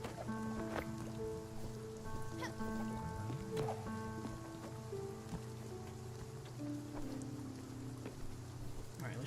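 Steady rain falls in the video game Spiritfarer, a soft continuous patter layered under gentle tonal game music, with no voices.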